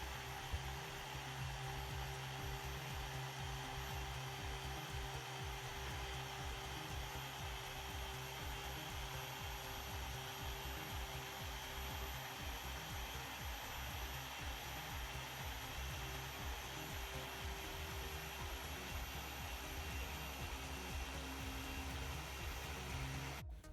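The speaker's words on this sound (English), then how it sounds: "We're going to shut off our polisher, and we're not going to remove it until everything has stopped completely, stopped rotating and oscillating." A small 3-inch car polisher runs with a correction compound, giving off a steady, unbroken motor whir that stays loud and even from start to finish with no voices over it.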